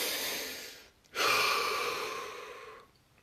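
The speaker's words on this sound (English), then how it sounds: "And again, deep breath." A long, deep breath taken during a guided relaxation exercise, one smooth breathy draw lasting about two seconds after a brief pause, close and fairly quiet with no talking over it.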